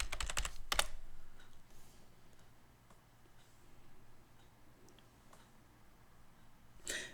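A password is typed on a computer keyboard: a quick burst of sharp key clicks opens the clip, a few faint isolated taps follow over a quiet background, and one more brief click cluster lands near the end.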